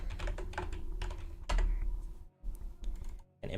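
Fast, close-up typing on a computer keyboard, a dense run of crisp key clicks with brief pauses, steady and uninterrupted by speech.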